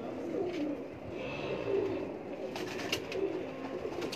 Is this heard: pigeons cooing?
yes